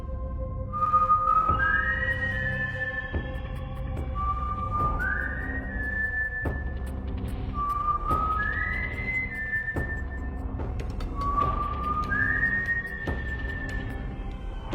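Several people whistle in turn, repeated rising two-note calls spaced every few seconds over a low rumbling background, fairly clear and moderately loud with no talking.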